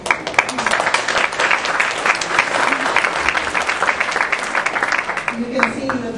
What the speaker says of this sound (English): this is a very generous audience because you're clapping and nobody's even said anything yet